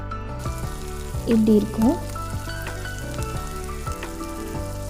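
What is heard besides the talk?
onions sizzling while sautéing for chicken gravy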